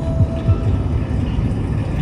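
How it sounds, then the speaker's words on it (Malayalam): A Qatar metro train produces a loud, steady low rumble with faint mechanical whine and a few soft clunks, heard continuously from inside or close by. "Qatar metro."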